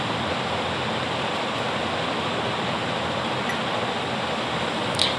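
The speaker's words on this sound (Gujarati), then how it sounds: "પાણી થોડું થોડું જ નાખવાનું." Water poured gradually into besan (gram flour) dosa batter, heard as a steady, even rush of running water that continues without a break for the whole stretch.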